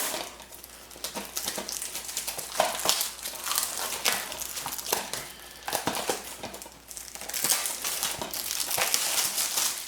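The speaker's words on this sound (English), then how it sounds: "Oh my gosh, trying to get this open. This plastic is hardcore." Hard plastic packaging around a Blu-ray disc being torn and crushed open, a long close run of loud crinkling, cracking and snapping bursts with brief pauses.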